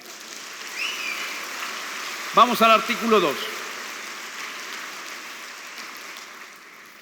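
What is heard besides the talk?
audience applause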